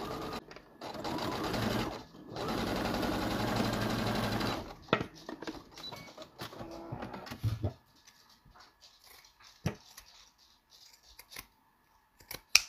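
A sewing machine runs in a sustained, loud stitching burst while sewing the seam of a turtle-shaped fabric pincushion, then stops, leaving scattered clicks and fabric handling sounds alone without talk.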